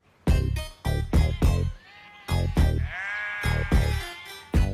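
Free-roaming sheep in the Forest of Dean bleating loudly and close by, a rapid series of repeated calls with one long, drawn-out wavering bleat in the middle, no talk.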